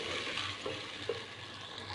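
Lahori chickpea ingredients with green chilies sautéed and stirred in a pan, a soft steady sizzle with light scraping stir strokes throughout, no voices.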